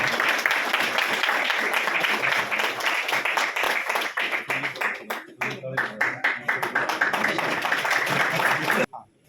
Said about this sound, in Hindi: तालियों की गड़गड़ाहट लगातार गूंजनी चाहिए।